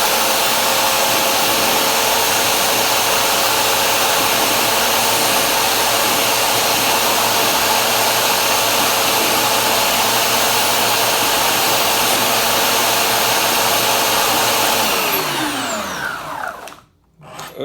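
A power sanding rig whirs loudly and steadily while sharpening a Simmons broadhead, holding one continuous drone for about fifteen seconds before spinning down and cutting off.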